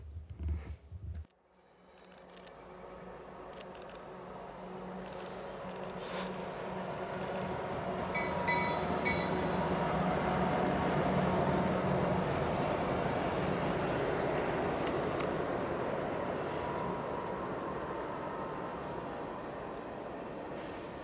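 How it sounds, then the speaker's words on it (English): CPKC coal train rolling past a trackside spot, a long steady rumble of wagons with clattering wheels that builds over several seconds, stays loud, then eases slightly, after a brief sharp knock at the start. "Our coal train is clear of the main line"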